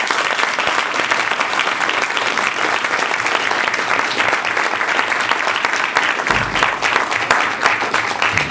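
Steady, dense applause from a Toastmasters division contest audience, loud and continuous throughout with no break, filling the room alone.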